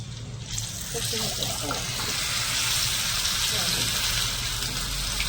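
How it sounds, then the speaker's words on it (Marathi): Idli-batter coated lollipops deep-fry in hot oil with a steady hiss and fine crackle, moderately loud and continuous, while a voice talks faintly underneath. "चला तर हे इडलीच्या पिठाचं बॅटर लावून घेऊ आपण लॉलीपॉपला, आणि आपण इथं फ्राय करायला टाकू।"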